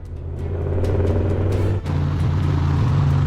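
Truck engine revving hard and building speed, a loud steady rumble with a brief dip midway before pulling on, heard from on board the vehicle.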